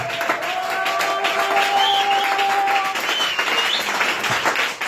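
A church congregation applauds and cheers for the Lord Jesus Christ, a steady dense wash of clapping with whoops and raised voices lasting throughout, loud and close.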